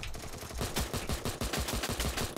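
Rapid automatic gunfire in the mobile shooter game Free Fire Max: dense, evenly spaced shots rattle continuously at close range with no speech.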